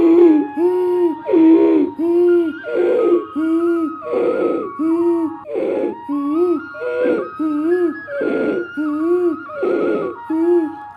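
Ujjayi breathing, a soft pigeon-like cooing sound drawn from the throat during yoga practice, repeated in a steady rhythm of about a dozen close, clear breaths with a whistly, hooting tone and no talking.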